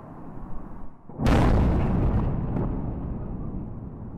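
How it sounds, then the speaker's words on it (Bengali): Airstrike bombardment in Gaza: one heavy, close explosion bursts out suddenly, followed by a long rumbling roar that slowly fades. "রাতভর বিমান হামলা শেষে সকালেও চলে বোমাবর্ষণ"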